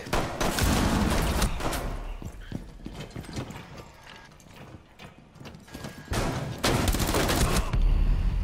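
Gunfire crackles in Rainbow Six Siege, a shooter video game, as dense, loud bursts of rapid shots. There is a quieter lull mid-clip, then heavy firing again.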